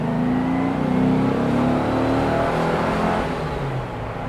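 A restored Porsche 356 engine pulls hard under throttle, a loud, steady drone heard from inside the car that rises in pitch and then eases off toward the end.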